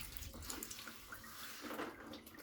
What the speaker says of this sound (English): So quickly whack on a little bit of warm water.